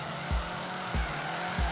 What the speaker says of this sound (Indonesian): Masih drifting manja